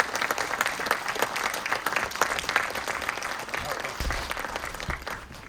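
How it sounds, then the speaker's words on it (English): Audience applause at an Astronomy Slam science event in a university planetarium, a steady dense wash of clapping that holds for several seconds at a moderate, even level before tapering near the end. "can we give a round of applause?"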